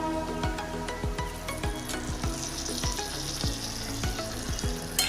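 Mashed potatoes being stirred into a turmeric-spiced tempering in a pan for Mumbai-style vada pav, with a steady close sizzle and repeated scraping strokes of a spoon at an even rhythm, no voices.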